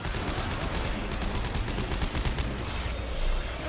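Dense, continuous gunfire from the video game Dead Space 3 fills the whole stretch, loud and close. Rapid repeated shots blend into an unbroken wall of noise without a pause.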